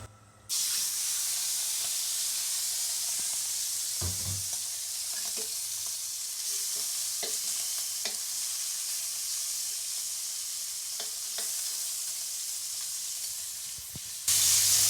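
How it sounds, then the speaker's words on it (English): Shrimp hit hot oil in a wok with a loud, sustained sizzle and spitting hiss, broken by occasional scrapes and clatters as they are stirred and tossed, close up. "Toss in the shrimp."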